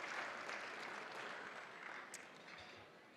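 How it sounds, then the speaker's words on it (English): Audience applause at an award ceremony, a sustained wash of clapping from a large crowd that fades slightly toward the end. "a big applause for this wonderful organization for tonight"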